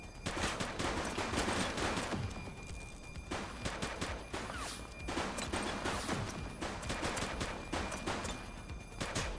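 Repeated gunfire crackles through a police shootout in the video game The Precinct, with bursts of shots and impacts running steadily and loudly across the whole stretch.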